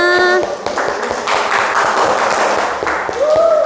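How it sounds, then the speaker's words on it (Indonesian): Students in a classroom clap together in a dense, close burst of applause lasting a few seconds, with a voice speaking briefly at the start and end. "Tepuk tangan dulu untuk kita semua"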